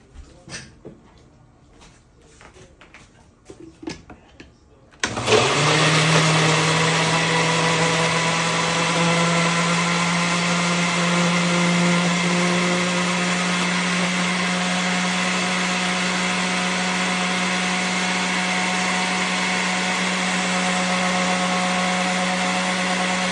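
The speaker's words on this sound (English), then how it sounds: "I'm gonna put it in the blender." After a few faint clinks, a blender motor kicks on loudly and whirs at a constant, steady pitch for the remainder, nearby and uninterrupted, blending spices with water.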